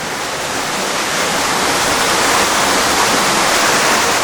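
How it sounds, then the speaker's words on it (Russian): A waterfall in the Philippines pours down in a loud, continuous roar of rushing water, a dense and unbroken hiss that swells slightly, close by, with no talking. "Сверху капает вода."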